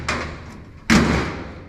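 The steel door of a 1932 Ford 5 window coupe project car, bare before paint, swings shut: a light knock, then a firmer solid thud close by, with no talking.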